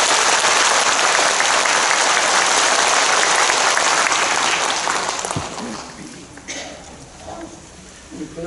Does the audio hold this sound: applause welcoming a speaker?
yes